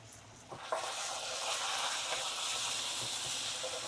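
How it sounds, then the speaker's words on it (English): Onions, scallion, bay leaves and thyme sautéing in caramelized burnt sugar in a one-pot Trinidadian chicken pelau, a loud, steady hissing sizzle that swells after a couple of soft clatters and holds close and constant. "All of those onions, scallion, bay leaves, that thyme, and I saute it in that burnt sugar"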